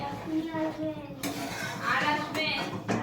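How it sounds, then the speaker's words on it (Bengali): Potatoes in water get stirred in a metal pot, with scraping spoon strokes and clinks of utensil against pan while a voice talks over them. "জল দিয়ে একটু নেড়ে দিলাম।"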